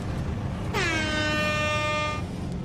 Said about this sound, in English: Yeah, thanks for the air horn.